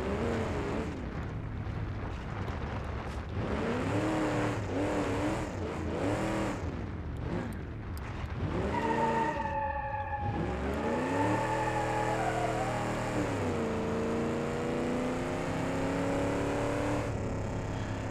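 A retired cop car fitted with a 454 engine revs in BeamNG.Drive, its loud engine note rising and falling through several throttle blips and sustained pulls, close and continuous throughout.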